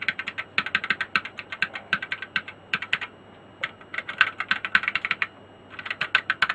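Irregular bursts of key presses clatter on a repaired ZX81 external keyboard, close and dry, with short pauses between flurries of plastic clicks.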